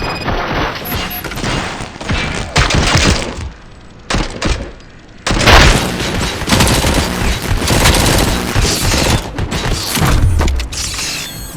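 Gunfire in the shooter game Robocop: Rogue City, dense bursts of shots and booming impacts with mechanical clatter, loud and continuous with a brief lull partway through.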